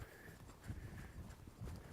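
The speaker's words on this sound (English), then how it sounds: "we're still trying to get these horses where they can find their feet on this uneven ground" A young colt's hooves clip-clop at a walk over uneven outdoor ground, steady muffled thuds close by with some rustling in between.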